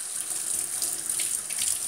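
Tap water running steadily over pork chops in a sink, a close, continuous splashing hiss with no voices.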